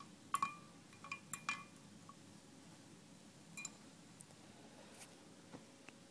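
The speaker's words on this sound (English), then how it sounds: "we'll just give that a bit of a stir" Glass container of water with carbon fiber electrodes being stirred, giving a few faint light clinks and taps scattered across a quiet background with no talk.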